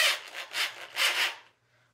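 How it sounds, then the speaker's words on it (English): Sandpaper rubs against a bicycle seatpost spun by a drill like a small lathe, giving three or four close, rhythmic scratchy passes that stop abruptly, leaving quiet. "you can use various types of sandpaper to polish this"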